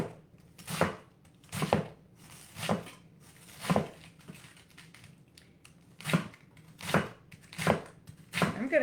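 A knife slices cabbage into quarter-inch strips on a cutting board. Close, crisp chops fall about once a second, each a sharp crunch followed by a short pause, over a quiet room.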